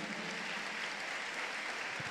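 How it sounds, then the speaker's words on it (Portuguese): Church congregation at a Mass giving a round of applause for a seminarian's family, distant even clapping, fairly faint and steady. "Uma salva de palmas"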